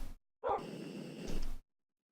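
A puppy gives a single short, slightly whiny bark that trails into a drawn-out yelp, close and fairly quiet, with silence before and after.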